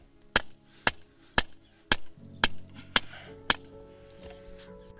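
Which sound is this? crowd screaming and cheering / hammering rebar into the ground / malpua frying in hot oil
hammering rebar into the ground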